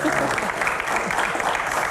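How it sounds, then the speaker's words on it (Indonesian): A studio audience on a Q&A talk show applauds for guest Ferry Juliantono, with continuous, moderately loud clapping and a voice speaking over it. "Tepuk tangan buat Pak Ferry"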